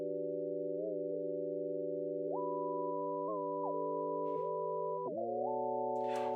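UV workstation synth keys play sustained stacked chords with glide, with notes sliding between pitches and pitch-bend swoops. The tone stays steady and loud throughout, with no talk.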